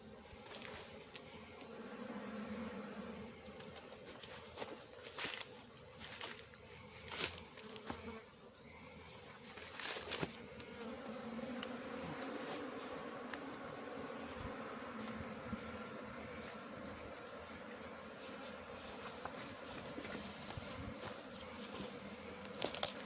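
Thai cavity-nesting honey bees drone steadily around a flower-pot hive, a close continuous buzzing with brief louder passes and faint handling knocks, no voices present.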